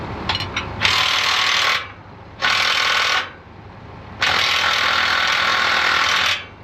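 A wrench loosens a stubborn bolt in three loud, close bursts of rapid ratcheting mechanical rattling, separated by short pauses, with no speech.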